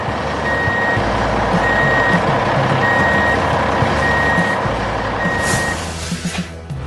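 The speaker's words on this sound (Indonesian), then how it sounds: "Truk kuning itu mulai bergerak meninggalkan lokasi dengan perlahan namun pasti." A yellow construction truck moves off slowly, its reversing alarm sounding a steady string of evenly spaced beeps over a loud, continuous engine rumble, close and prominent.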